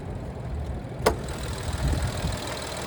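A 2026 Nissan Rogue's 1.5-liter turbocharged three-cylinder engine idles with the hood open, a faint, steady low rumble broken by one sharp click partway through.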